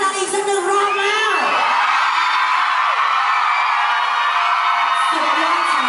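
A large fan-meeting audience screams and cheers in a sustained, loud, high-pitched roar that swells and holds without a break, with excited whoops rising above the dense crowd noise.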